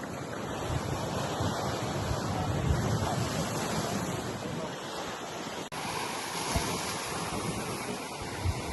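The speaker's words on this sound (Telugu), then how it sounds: "అలలు చాలా పెద్ద అలలు వస్తున్నాయి అన్నమాట." Big ocean waves surge and wash against the rocks at Rock Beach, Pondicherry, a steady roar of surf mixed with gusting wind buffeting the microphone, with a brief dropout partway through.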